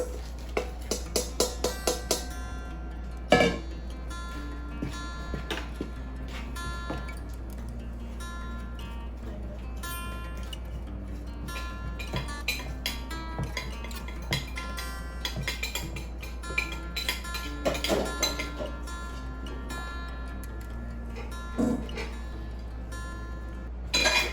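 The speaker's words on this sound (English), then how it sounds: "You want the butter and sugar to be creamed in a larger bowl." Butter and sugar are creamed in a large bowl for pumpkin cookies. Scattered clicks and clinks against the bowl sit over a constant low hum, with a few sharper knocks through the mixing.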